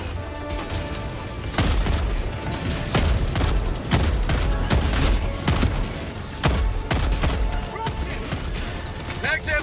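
Rapid bursts of autocannon fire in a military video game, loud and dense, with booming impacts and mechanical clatter, while a voice speaks over the shooting.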